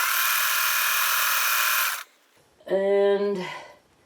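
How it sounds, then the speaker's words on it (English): A sewing machine runs steadily for about two seconds stitching fabric scraps, stops, then gives a short second burst of stitching; close and loud, with no talk. "I'm just going to sew this on here"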